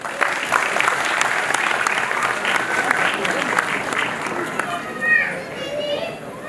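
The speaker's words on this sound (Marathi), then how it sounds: "यांच्यासाठी जोरदार टाळ्या." Crowd at a Marathi film music launch in Pune breaks into loud, sustained applause with cheering and voices mixed in, a few whoops rising near the end.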